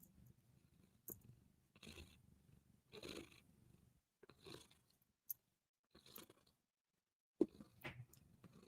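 A cat purrs very quietly in short, soft bursts close to the microphone, broken by gaps of near silence and a few small rustles and clicks.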